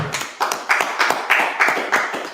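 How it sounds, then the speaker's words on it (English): A small group claps in a steady, even rhythm, about eight sharp claps close by at a regular pace in a room, with no talking over them. "Let's clap it up"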